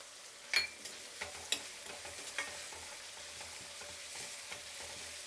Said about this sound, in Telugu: అలాగే కరివేపాకు వేద్దాము.